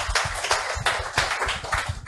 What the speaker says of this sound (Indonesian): Mari berikan tepuk tangan yang meriah pada Tuhan.